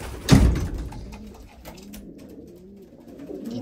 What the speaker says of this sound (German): Tauben sind gut gekommen.